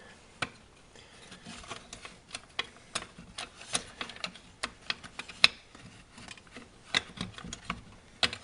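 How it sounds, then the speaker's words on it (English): A flathead screwdriver prying a clip off a Roper washing machine motor (model RAS6233KQ1) makes a run of sharp, close metallic clicks and ticks at irregular intervals, with no talking. "You just put your flathead screwdriver in there, twist it to the right, and this clip comes off just like that."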